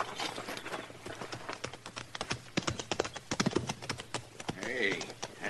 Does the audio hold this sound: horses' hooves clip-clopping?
yes